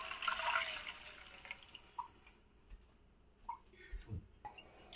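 Water is poured into a pot of sautéed ingredients for a lemon coriander clear soup, a faint splashing pour at first, then scattered drips and small clinks in a quiet kitchen.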